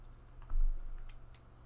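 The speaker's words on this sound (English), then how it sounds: "He's typing." Keys on a computer keyboard tapped in a short burst of typing, with a louder thump partway through and light clicks trailing off, close and unaccompanied by talk.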